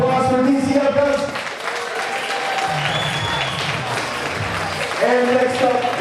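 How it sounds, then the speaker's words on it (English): Audience applause and cheering at a live grappling event at Pit Boss Grappling, a loud sustained crowd din filling the room, with voices calling out over it. "So let's give a round of applause for DCF Guns."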